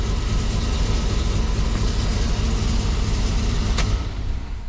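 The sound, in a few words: Chevrolet 5.3 V8 engine running and misfiring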